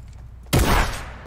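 A single loud, close blast from a combat shotgun in Fortnite, a sudden booming report that rings out and decays over about half a second.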